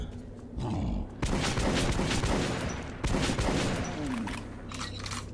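Sustained gunfire into a big monster in Metro 2033 Redux, loud dense bursts of shots filling most of the stretch with brief gaps, with a booming impact near the end.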